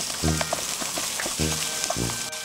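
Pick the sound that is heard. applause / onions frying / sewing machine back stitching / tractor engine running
onions frying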